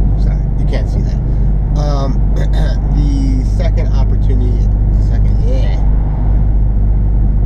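A Ford Mustang GT500 goes by as a low, loud steady engine rumble that holds throughout, with voices talking over it.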